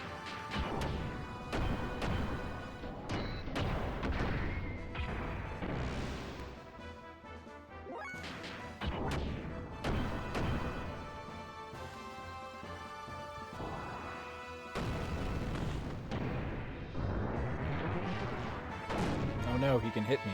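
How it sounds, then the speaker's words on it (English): Missiles fired repeatedly by a boss in the late-1990s RPG Xenogears, a dense run of loud crashing, blasting game impacts layered over battle music that fills the whole stretch, with hits recurring every few seconds. "not if he keeps spamming them missiles"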